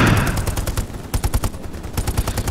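Rapid machine gun fire in the World War II shooter game Hell Let Loose, with fast bursts rattling close and loud, a brief lull partway through, then more sustained automatic fire.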